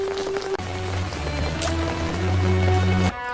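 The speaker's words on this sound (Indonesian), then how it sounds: "Hujan pun turun mengguyur basah semuanya." Heavy rain pours down in a steady, dense hiss that lasts throughout, mixed with sustained musical tones from a film soundtrack.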